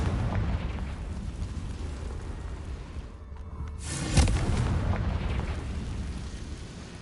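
Confringo spell explosion in the Hogwarts Legacy video game: a sharp burst after a short lull, then a rumbling blast that fades slowly under ongoing game ambience.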